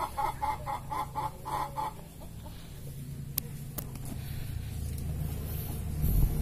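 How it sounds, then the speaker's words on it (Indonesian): Chickens cluck in a quick rhythmic series at the start, then fall quiet as a low steady rumble continues, with a couple of sharp clicks. "ada suara ayam karena di dekat kandang ayam"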